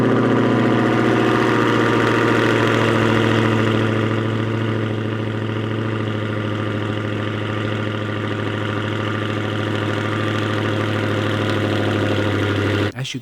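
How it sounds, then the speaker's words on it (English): Dodge Charger Hellcat engine idling close and loud, a steady deep throbbing drone that eases slightly after the first few seconds and holds, ending with a brief clunk. "now I can actually do a startup for you so you can hear how terrible this thing actually sounds"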